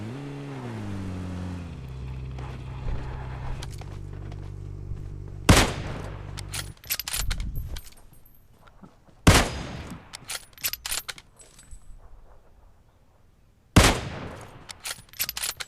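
Kar98 rifle gunfire in a battle royale video game: three loud, sharp single shots spaced several seconds apart, each followed by a short echoing tail, over a humming vehicle engine early on.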